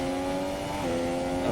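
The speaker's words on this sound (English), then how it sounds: "Third gear, put the apex, and then just full throttle." Formula 1 car at full throttle out of a third-gear corner at Bahrain in the F1 2017 video game, a steady high-pitched engine howl with its pitch dipping and climbing as it accelerates, continuous and fairly loud.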